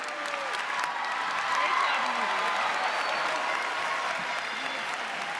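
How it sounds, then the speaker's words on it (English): Graduation audience applauding in a hall, a steady wash of clapping with a few cheers and voices mixed in, moderately loud and sustained. "Give yourself a big round of applause."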